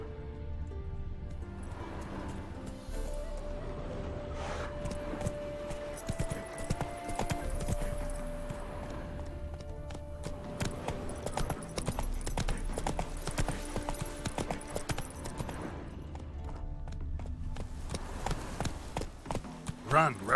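Roach the horse gallops in The Witcher 3, with steady, loud hoofbeats running the full length under game music and occasional spoken lines.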